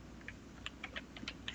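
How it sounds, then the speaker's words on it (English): Fingers type on a computer keyboard during a Python programming lesson, giving a quiet, close run of light, irregular key clicks with no talk. "Wow, my typing much better now"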